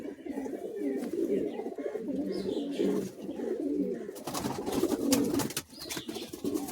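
High flying Madrasi pigeons coo in a steady, continuous murmur close by, with soft rustling and a few brief clicks and knocks in the latter half.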